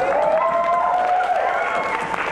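Steady applause fills a room as an audience claps for a volunteer award winner at a Q&A event, a dense continuous wash with a faint voice riding above it.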